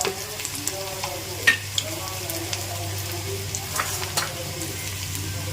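Urad dal and chana dal tossed into hot oil with garlic, crackling in a steady sizzle with a few sharp pops and stirring clicks, close and moderately loud, no talking.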